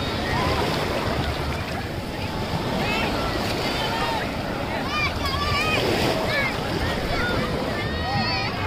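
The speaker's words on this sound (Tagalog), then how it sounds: "Malakas yung alon dito." Strong sea waves roll onto a beach at sunset, a constant rushing surf mixed with wind buffeting the microphone, while people talk and call out over it.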